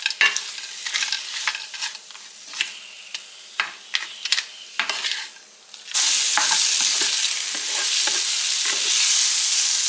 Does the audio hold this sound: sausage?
yes